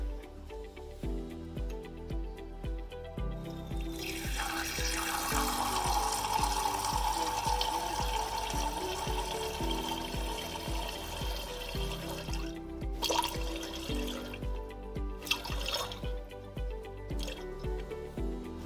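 Distilled water pours and trickles steadily into a container while lye water solution is prepared, a soft continuous liquid splash that swells midway and then thins, with faint music behind it and no talking.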